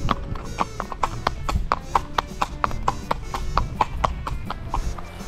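Horse hooves clip-clop in a steady, brisk rhythm on a horseback trek through mountains near Adigeni, Georgia, sharp and close for the whole stretch, with faint background noise and no voice over the steps.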